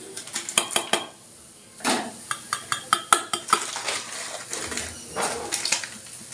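A spoon scrapes and clinks against a pan while grated coconut and jaggery are stirred into a filling, with rapid uneven metallic knocks and soft frying hiss. The sound is close and distinct, with no talk.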